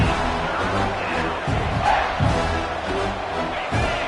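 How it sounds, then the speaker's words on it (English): A home crowd at a football game roars steadily, a dense continuous wash of cheering and shouting that swells in waves and stays loud throughout. "this home crowd is fired up and ready to make a difference today"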